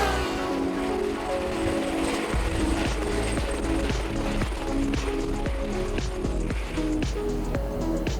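A helicopter flies close by with a loud, continuous rhythmic thump of rotor blades over a steady turbine whine, followed by an FPV drone, with no speech.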